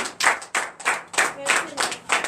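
Congregation clapping in rhythm during a Sunday church service in Comè, Benin: loud, close, evenly spaced claps, roughly eight in quick succession, with no voices over them.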